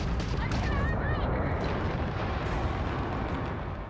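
An enemy spaceship blows apart in a space combat video game, a loud, sustained rumbling explosion with a deep roar that fills the whole moment and fades slightly at the end.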